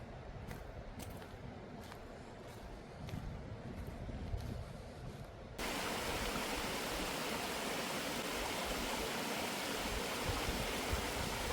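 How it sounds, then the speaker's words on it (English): Running water of a stream beside a parked van, a steady broadband rush that starts softer under faint ticking, then jumps louder and fuller halfway through, continuous with no speech. "you should be able to hear"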